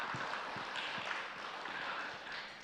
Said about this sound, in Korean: 우리 홍 장로님, 양 장로님, 장 장로님 박수 한번 해드립시다